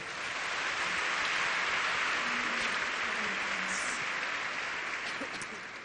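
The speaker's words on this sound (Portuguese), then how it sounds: "Vamos aplaudi-las?" An audience in a talk-show setting applauds women guests, a steady close wash of clapping that rises quickly, holds for several seconds and eases off slightly at the end.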